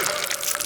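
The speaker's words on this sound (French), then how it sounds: "il est temps que nous ajoutions du sirop de fraises sucré à notre gâteau. Laisse-le coller comme une cascade." Sweet strawberry syrup pours onto a cake in a continuous wet, splashy stream, close and fairly loud, with no talking.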